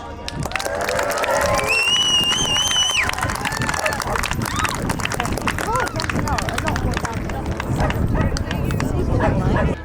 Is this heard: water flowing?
no